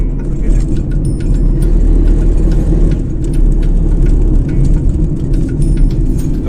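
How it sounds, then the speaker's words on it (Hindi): A car climbing a hill road in 4th gear on a mountain drive in Uttarakhand, with a loud steady low engine drone and road rumble filling the cabin and faint small rattles inside the car. "मेरा 4th गियर लगा है और मैं अपहिल जा रहा हूँ"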